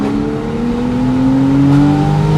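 A 991.1 Porsche 911 Carrera S convertible pulls hard in second gear with windows up, its engine note rising steadily and loud throughout, a continuous close-up rev climbing without any break.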